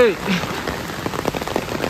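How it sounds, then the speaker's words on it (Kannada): Heavy, steady rain patters on a nearby surface in the forest at Irpu Falls, Nagarahole, with scattered drops and splashes, continuous throughout. "ಹೆವಿ ಮಳೆ,"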